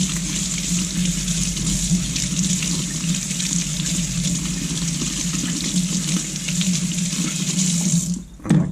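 A sharpening stone is rinsed under a running tap, giving a steady, close rush of water splashing into a sink that cuts off briefly at the end; no one speaks.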